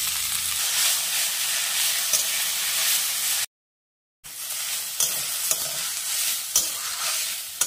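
Drumstick leaves sizzle and fry in a very hot wok in a village kitchen, with scraping stirs and soft crackles; the sound cuts out briefly midway, then the frying resumes close by.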